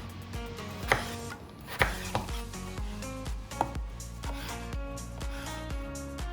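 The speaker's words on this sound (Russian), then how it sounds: "Нарезаем вот таким чесночком." A knife chops garlic on a cutting board for pork knuckle with roast potatoes, giving a steady run of quick, close, crisp taps, with a few louder knocks along the way.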